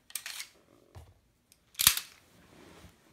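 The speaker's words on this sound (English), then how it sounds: "what you can just do is pop your magazine in with your fresh rounds and let it slide forward" A handgun slide snaps forward after a fresh magazine is inserted: a soft metallic click of the magazine seating, then one sharp, close metallic clack of the slide going home, with quiet between.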